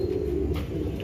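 Pigeons cooing at a large pigeon market in Lahore, a low throaty coo close by with a soft murmur of the busy market behind it.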